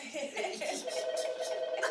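A phone rings through a MacBook, its repeating electronic ringtone pulsing steadily and close for a couple of seconds with nothing else over it.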